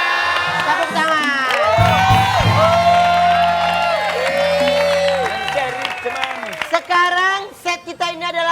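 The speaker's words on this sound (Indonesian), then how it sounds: "Tepuk tangan" Studio audience at an Indonesian comedy show cheers and claps loudly, with whoops and shouted voices over the applause, music tones and a low synth bed, fading into scattered talk and laughter toward the end.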